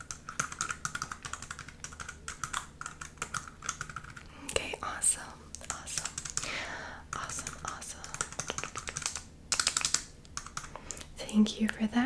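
Typing on a computer keyboard, rapid close clicks in uneven bursts and pauses, with a soft whispering voice talking quietly alongside the keystrokes.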